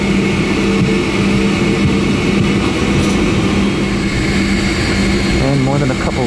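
A Boeing 757-300 jet airliner taxies toward the runway at Washington Dulles, its engines a loud steady roar with a droning low hum heard from inside the cabin, continuous with no talk.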